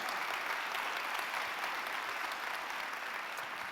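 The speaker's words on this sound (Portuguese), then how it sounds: "aplauda, aplauda, não perca a oportunidade" A church congregation applauds together, a dense, even wash of clapping that holds steady and fairly distant throughout, with no voices rising above it.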